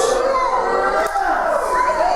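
A crowd at a professional wrestling show roars and cheers loudly and continuously, with excited shouts rising throughout the short burst.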